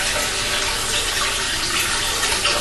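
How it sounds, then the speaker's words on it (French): A hot water tap runs steadily into a bath, a close, continuous full gush of water with no voices over it. "Et là, du coup, je rallume mon eau chaude."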